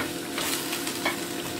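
Carrots, red onion and garlic stir-fry with eggs for vegetable fried rice. A steady hiss of sizzling runs throughout, with soft scraping and stirring bursts mixed in, close and continuous, and no one speaks.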